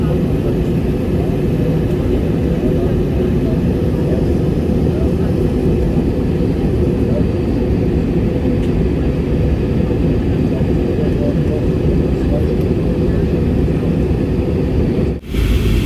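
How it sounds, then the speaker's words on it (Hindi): Continuous loud cabin roar inside an airliner descending toward Istanbul, a steady broadband engine and air rush lasting the whole stretch with a brief dip near the end, while a voice speaks over it. "जहाज जो अभी लैंडिंग की तरफ जा रहा है आस्ता आस्ता।"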